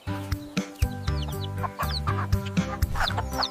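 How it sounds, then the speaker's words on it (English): A chicken clucks in a quick series of short, close, fairly loud calls with brief gaps, heard alone without talking. "The chicken says cluck cluck."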